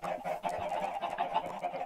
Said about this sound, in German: Viele Hühner.